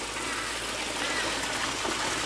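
Pumped water circulates steadily through an aquaponics pond, a continuous close trickling and streaming wash with no talk.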